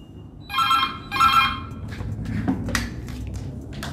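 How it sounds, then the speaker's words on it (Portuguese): A telephone rings twice in short electronic bursts, close and clear, followed by soft indistinct background noise and faint movement sounds. "tô trabalhando, o telefone toca."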